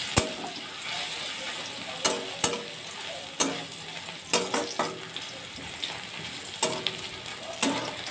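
Crushed garlic frying in hot oil for bottle gourd greens gives a steady close sizzle, broken by several sharp clacks of a utensil stirring against the pan, with no talk.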